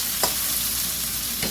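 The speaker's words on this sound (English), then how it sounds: "Now, we're at the point where we stir them around." Shrimp fried rice hisses in a hot wok, a loud, steady sizzle with two quick scraping clanks from the stirring spatula at the start and end.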